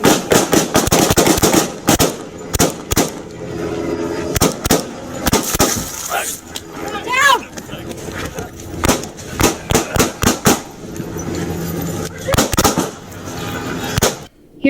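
Gunfire during a police shooting captured on an officer's body-worn camera, rapid bursts of loud, sharp shots in irregular volleys over about fifteen seconds, with shouting voices between the bursts.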